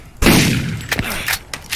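A gun fires in Borderlands 1 Remastered, starting with one loud, close blast followed by several quicker, lighter shots during combat.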